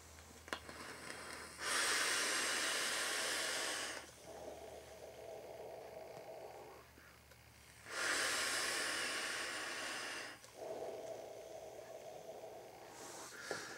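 Two long, strong draws of vapor from an Eric competition RDA clone with 6mm airflow holes, each a loud, airy hiss lasting a couple of seconds, separated by quieter exhales and breathing, close up with no talking.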